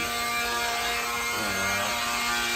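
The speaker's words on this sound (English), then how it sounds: "it's got a sanding disc on there, and there we go" Steady, loud motorized whir from a battery-powered sanding disc on a curb-rashed Tesla Model 3 wheel, sustained hum dropping slightly in pitch partway through as the disc bears down, no talking.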